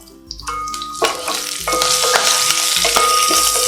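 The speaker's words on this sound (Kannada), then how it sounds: "ಬೆಳ್ಳುಳ್ಳಿ ಒಳ್ಳೆ ಘಮ ಬರೋವರೆಗೂ ಚೆನ್ನಾಗಿ ಫ್ರೈ ಮಾಡ್ಕೊಳ್ತೀನಿ" Garlic, curry leaves, dried red chillies and a pinch of asafoetida frying in hot oil for a drumstick-leaf dish, a loud close sizzle broken by bursts of stirring, with faint tonal music underneath.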